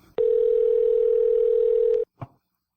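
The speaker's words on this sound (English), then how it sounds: "We're calling Tach?" A telephone dial tone hums steadily for about two seconds while a call is being placed, then cuts off, followed by a brief faint click.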